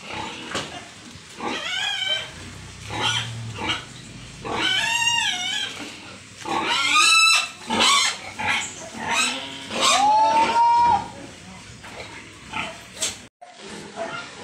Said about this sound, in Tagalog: Sobrang dami ng baboy dito mga idol